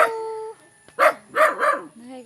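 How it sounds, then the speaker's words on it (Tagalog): A dog in a garden barks a few times in quick succession, fairly close, after a short stretch of a voice. "may aso pa. Tumatahol sa akin."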